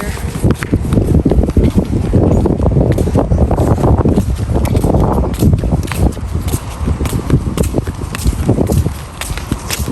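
Steady, loud wind buffets the microphone during an outdoor walk on a sunny day, a continuous rumbling roar with faint footsteps in it.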